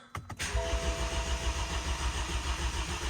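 A freshly rebuilt BMW N20 engine in a 328i cranks briefly, catches and settles into a steady, loud idle with a low rumble and a faint whine, close by with no talking.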